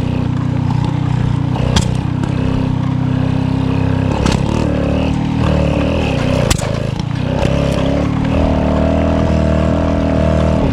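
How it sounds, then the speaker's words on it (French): A Peugeot 103 moped engine sputters and revs unevenly as it struggles to start, its loud steady drone rising and dipping with sharp bursts throughout. "Et là, elle démarre difficilement."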